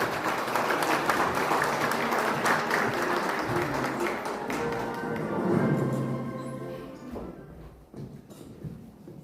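Sustained applause from a seminar audience at a regional development event, loud and dense at first, then thinning out into scattered claps before fading.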